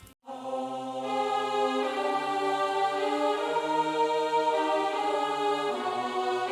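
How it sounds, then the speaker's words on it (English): Dark, sustained choir voices and violins swell together in a brooding orchestral passage, steady and full throughout with a low drone beneath. "I have this lead on the choir and violins"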